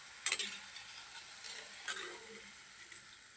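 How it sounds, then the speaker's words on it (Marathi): Cut chili bhaji fritters fry in oil with a faint, soft sizzle and a few brief crackling bursts of stirring, quiet and with no talk. "आता असे अर्धवट तळले ना काढायचे त्याला पूर्ण तळू द्यायचं नाही अर्धे तळू द्यायचे"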